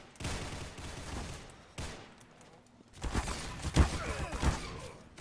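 Gunfire from an automated sentry turret in a video game, rapid bursts with sharp thuds near the end, fairly loud, with game ambience and no talk over it.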